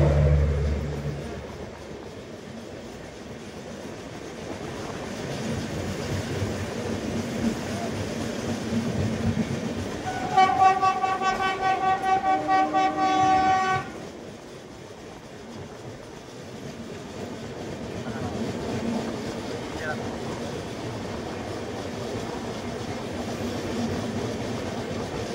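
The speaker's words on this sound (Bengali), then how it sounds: "চলে আসছে ট্রেন নাম্বার 15120 দেরাদুন বেনারস জনতা এক্সপ্রেস" The Dehradun–Banaras Janata Express rumbles past with a steady rolling roar, its horn blaring for a few seconds midway before the clatter fades and continues at a distance.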